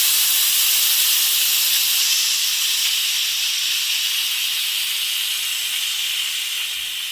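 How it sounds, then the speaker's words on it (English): A low pressure release valve on a mini beer keg lets out a loud, continuous close-up hiss of escaping gas that fades slightly over about seven seconds. "So we're just gonna put the low pressure release valve on top."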